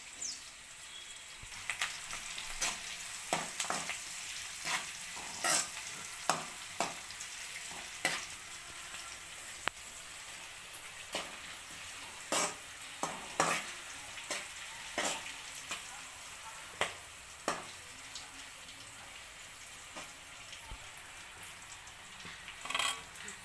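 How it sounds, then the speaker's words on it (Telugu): Steady oil sizzling with scattered sharp pops and crackles as green chillies and curry leaves fry in a tempering pan, close up, no talking. "ఈ పోపులో పచ్చిమిర్చి కానీ కరివేపాకు కానీ బాగా ఫ్రై కానివ్వాలి"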